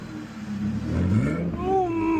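A 1974 BMW E9 engine revs up, a rising throaty mechanical tone climbing in pitch over about two seconds, heard close and fairly loud.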